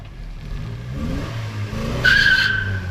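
A 1997 Toyota Tacoma project truck revs and breaks its tires loose in a short driveway burnout, a low engine drone topped by a sudden high tire squeal near the end, fairly close.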